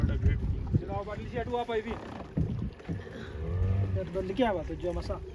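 Rescue boat approaching on Lake Naivasha, Kenya: a steady motor drone and water noise with wind buffeting the microphone, under excited nearby talk throughout.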